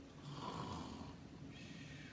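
A voice imitates snoring in a soft, steady drawn-out rasp heard faintly, with no other talking.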